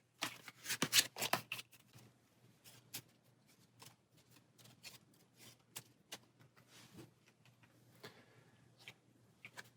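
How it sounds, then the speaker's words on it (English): Cards from an Arkham Horror encounter deck shuffled by hand, a quick flurry of crisp riffling snaps at the start followed by softer, sparse card taps and slides, close and faint. "Take the top 2 off of that encounter deck and shuffle this in with those."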